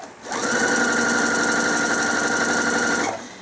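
A sewing machine back-stitching along a quilt binding seam runs in one steady, loud, close whirring burst of about three seconds, with no talking over it.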